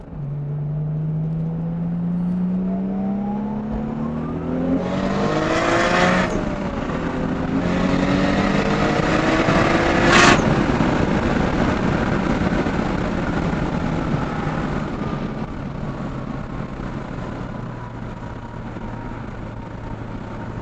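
A 1989 Nissan Skyline GT-R making about 525 wheel horsepower accelerates hard up to 100, its engine rising through the gears with clear pitch sweeps and brief dips at each shift, loud and sustained, with strong road and wind noise.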